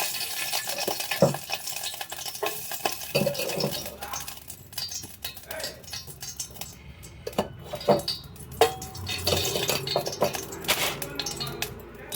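Vermicelli frying in ghee in a pan, with a soft sizzle under frequent scraping and clinking of a spoon against the pan, close and busy throughout, no talk.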